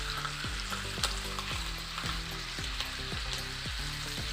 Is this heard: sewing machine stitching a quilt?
no